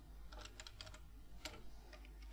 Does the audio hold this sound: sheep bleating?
no